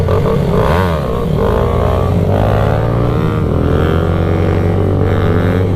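A Supermoto motorcycle revs in a parking lot, its engine loud and close, rising and falling in repeated throttle blips over a steady idle.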